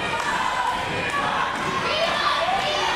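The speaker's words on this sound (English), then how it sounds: "The crowd's rallying behind T-Bone and Jacob Hallows" A wrestling crowd at an MCW Riot show cheers and rallies, a dense steady roar of voices with shouts and thuds continuing throughout.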